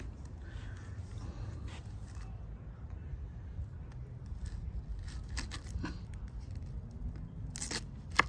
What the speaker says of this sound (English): I'm going to cut them, like separate them.